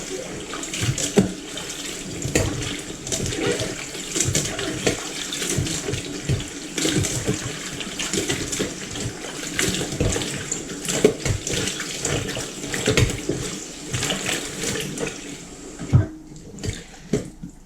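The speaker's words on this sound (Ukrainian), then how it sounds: "заливаємо холодною водою та добре промиваємо" Running cold tap water splashes and gurgles continuously as eggplants are rinsed and handled under the stream, with irregular sloshes throughout.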